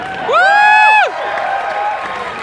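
Convention crowd at a PAX East 2019 keynote cheering for Brent, a loud whooping shout that peaks and cuts off after about a second, then settles into a lower roar of cheers and clapping with a few voices.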